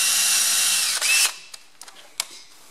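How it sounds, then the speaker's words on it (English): A close, high-pitched drill whines steadily for about a second while drilling out a rear axle bearing on a Ferguson TE20 tractor, then cuts off, leaving a few sharp clicks and taps. "the point of the drill just sits on the back of the bearing"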